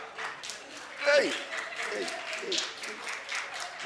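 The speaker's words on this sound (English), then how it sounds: "Clap for them again." A church congregation claps during a sermon, a moderate scattered applause running under a speaking voice throughout.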